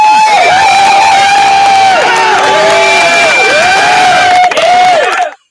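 A large crowd cheers, whoops and shouts loudly and continuously for about five seconds, the sound cutting off abruptly at the end.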